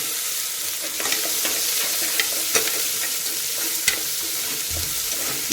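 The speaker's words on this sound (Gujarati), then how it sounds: "હવે આપણે એમાં ડુંગળી એડ કરીશું. ડુંગળીને 2 મિનિટ સાતળી લઈશું." Onions sautéing in a pan for masala pulao, a loud continuous sizzle close by, broken by scattered scrapes and taps of stirring, no talk.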